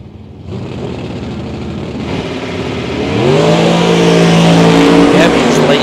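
Drag-racing cars, including a Mustang, at a bracket race, loudly revving and then launching with a rising engine roar under a commentator's voice.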